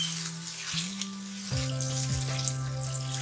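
Chicken taken from the stock being fried with yogurt in a pot, a steady close sizzle and bubbling under a background tone that shifts pitch several times.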